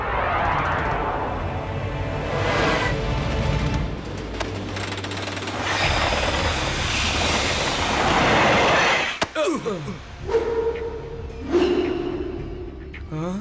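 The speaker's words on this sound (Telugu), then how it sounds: "ట్రైన్ కంట్రోల్లో లేదే. ట్రాక్లో ఏమాత్రం కూడా మార్పు కనపడడం లేదు." A train rumbles through a tunnel as a TV drama sound effect, with a loud, continuous pounding roar, whooshing surges and sharp rattling clanks partway through.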